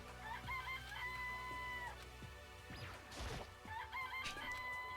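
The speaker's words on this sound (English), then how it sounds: "Listen to those chickens." Chickens cluck and crow in a Danganronpa video game, with repeated squawks and a rooster call near the middle, a crashing thump under a layered electronic background, and no talk.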